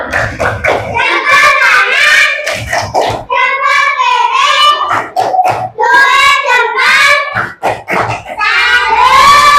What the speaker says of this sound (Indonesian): kita mau tepuk jempol dulu. Tepuk jempol.